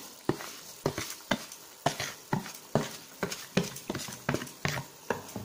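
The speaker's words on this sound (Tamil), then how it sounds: "ரவா போட்டு ஒரு கிண்டிட்டு" Semolina (rava) being stirred into boiling water in a pot makes a steady series of scraping, sloshing strokes, each a soft burst in an even rhythm, close and moderately loud with no talk.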